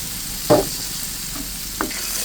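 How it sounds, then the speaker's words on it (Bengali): An egg goes into a hot pan with spring onion and sizzles steadily, with two short knocks of a spatula or pan and no talking. "আমি ডিমটা দিয়ে দিচ্ছি।"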